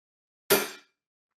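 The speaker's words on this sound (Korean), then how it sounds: "하이햇 소리가 어떤지 한번 들어보도록 할게요" A single hi-hat cymbal hit, two metal plates struck with a drumstick, gives one sharp, bright, close crash that rings briefly and fades within a fraction of a second, alone in silence.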